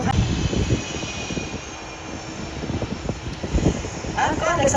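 An F-18 Hornet fighter jet flies at an airshow in Finland, its engine roar rumbling and shifting in strength over the whole stretch, with wind buffeting the microphone and a voice speaking over it.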